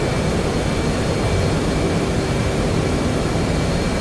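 An FA-18C jet roars steadily on takeoff in a flight simulator game, a loud, unbroken engine drone with no speech.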